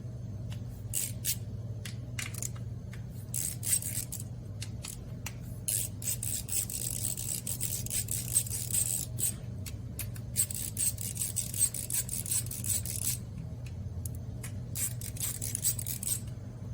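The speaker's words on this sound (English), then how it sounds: "We're going to use our 8mm socket to remove these 3 bolts right here." An 8mm socket works loose the three oil filter cover bolts on a Suzuki DR650 motorcycle, giving repeated light scraping and rasping clicks over a steady low hum, close and continuous, with no talk.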